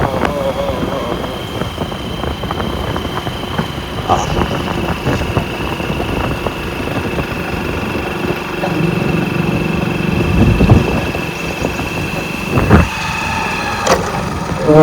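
Loud, continuous motorbike engine drone as the bike labours through sand and rutted track, with someone talking over it intermittently and brief rattles and clunks near the end.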